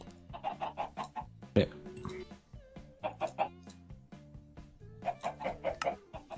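Chickens cluck repeatedly in the Minecraft video game, a busy run of short, rhythmic game-sound bursts in three clusters, with a brief spoken word and other game noises mixed in.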